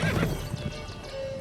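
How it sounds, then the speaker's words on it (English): Horse in The Witcher 3 giving a brief whinny alongside clip-clopping hooves and a sharp knock, loud and close within a short game soundscape, with no speech. "Whoa there, Roach"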